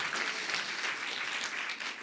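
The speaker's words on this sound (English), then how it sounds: "One more round of applause perhaps for them." A conference audience applauding presenters in a main room, a steady, even wash of many hands clapping at moderate distance, continuous for the whole moment with no voices over it.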